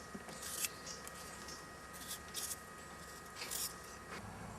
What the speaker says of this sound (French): Alors maintenant, je vais éplucher mes pommes de terre